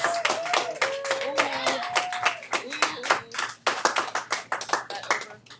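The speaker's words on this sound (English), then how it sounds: "Everybody give Olivia a round of applause." Small audience clapping for a contestant in an algebra classroom, a short burst of uneven hand claps with voices talking over it.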